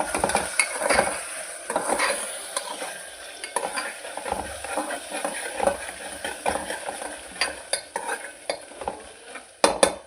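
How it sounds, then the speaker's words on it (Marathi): A utensil stirs salt and turmeric through food in a cooking pan, with soft sizzling under repeated scraping and clinking strokes against the metal. "यात मीठ, हळद आणि मीठ ते घालूया. छान ढवळूया आपण याला."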